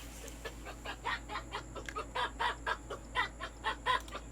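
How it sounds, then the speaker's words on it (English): Chickens in the Fishing Planet video game cluck in a steady run of short, moderately loud calls, spaced about every third of a second, with no talk over them. "There is some annoying chickens that you're gonna have to deal with."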